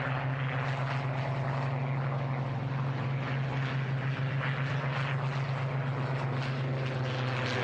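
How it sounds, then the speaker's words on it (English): Supermarine Spitfire fighters flying at the Duxford Flying Legends airshow, a steady distant propeller-engine drone with a strong low hum that holds throughout, with no voices. "And then it's the turn of the Spitfires."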